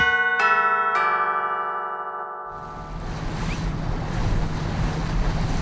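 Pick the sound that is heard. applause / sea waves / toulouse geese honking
sea waves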